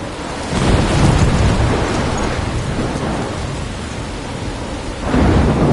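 Thunderstorm in the video game Life is Strange, heavy rain pouring steadily with deep rumbling thunder that swells at the start and again near the end, no voices.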